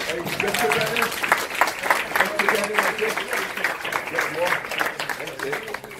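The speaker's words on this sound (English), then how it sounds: "I'm going to rise up to make a clap for them" Audience applause for bodybuilding athletes at the Arnold Classic, a steady wash of clapping from a large crowd lasting throughout, with voices and chatter mixed in.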